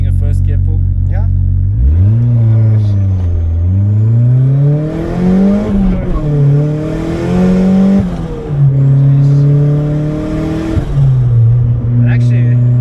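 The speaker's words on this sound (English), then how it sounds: "You okay with doing a first gear pull?" A turbocharged 200 kW Opel Corsa B GSI sleeper accelerates hard in first gear, its engine note climbing steadily in a loud, continuous rising drone through the run with brief dips, heard from inside the car.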